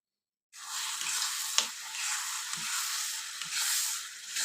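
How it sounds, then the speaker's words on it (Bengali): Raw mango pickle with vinegar stirred in a pan, a steady close sizzling hiss with a few soft scraping knocks of the spoon, no talking. "ভিনেগারটা দিয়ে আরও কিছু সময় ভালো করে মিশিয়ে নেব।"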